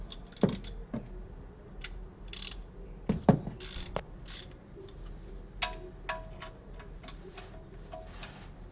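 A ratchet tightening a part during an oil change on a 2012 Toyota Crown Athlete 3.5, with scattered clicking pawl sounds, a few louder clanks, and a run of quick ratchet ticks toward the end, close and moderately quiet.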